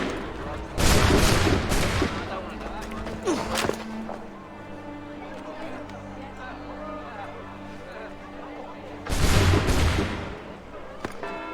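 A gunfire volley in Assassin's Creed III: two loud, broad bursts of massed musket fire a few seconds apart, each a crackling roar that fades into a lingering, echoing tail, with some voices in between.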